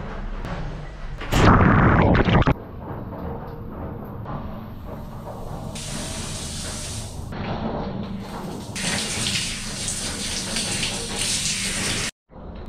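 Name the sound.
shower water running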